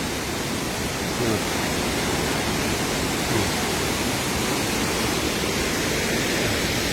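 A waterfall pours in a steady, dense roar of falling water, loud and unbroken throughout, with no voices.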